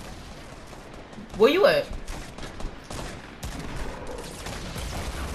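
Bursts of distant gunfire in a 50v50 Fortnite Battle Royale match, a rapid crackling volley rising briefly and then scattered pops, under a voice talking.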